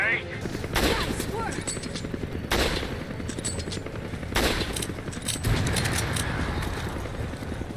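Resident Evil 5 gameplay with rapid bursts of gunfire and booming blasts recurring every couple of seconds over a continuous noisy action soundscape, loud and close.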